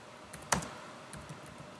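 Keys clatter on a computer keyboard as someone types, with a sharp near click standing out among lighter scattered taps, and no speech.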